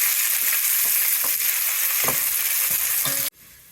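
Onions sizzling as they hit four tablespoons of hot oil, making a loud, bright, continuous hiss with soft stirring taps and crackles, which drops off abruptly near the end, close up with no voices.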